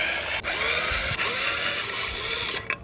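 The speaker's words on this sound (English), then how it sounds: "You just have to remove these 4 screws right here and it comes right off." Power driver removing screws from an ebike controller cover, a close continuous whirring whine with brief dropouts as each screw backs out, ending in a short stutter.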